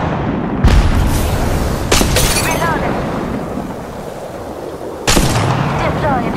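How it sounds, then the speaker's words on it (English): Apex Legends gameplay, where a thermite grenade goes off amid loud game combat: three heavy booming blasts arrive a second or more apart over a dense, continuous rumble of in-game noise. "Throwing thermite grenade."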